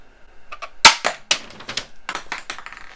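A vintage 1990 He-Man Bolajet toy bola launcher fires with a sharp plastic snap, followed by a quick run of clattering, rattling clicks as the mechanism and bolas move, close and fairly loud with no talking.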